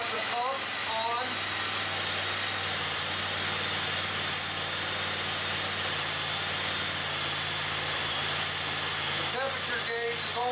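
A Honda Talon engine held steady at 2,000 RPM with a cab heater pump running gives a constant low drone and hum throughout, close and unchanging, with a brief voice at the start and end.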